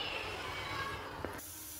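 Steam hisses faintly from a pressure cooker of chickpeas on a gas stove, a soft continuous spray of sound with a small knock near the end before cutting off abruptly, leaving quiet background.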